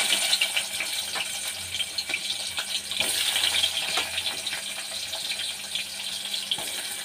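Chopped onion tipped into hot oil for a drumstick-pod curry gives off a continuous hissing sizzle. It stays close and fairly even throughout, with faint crackles scattered through it and no talking.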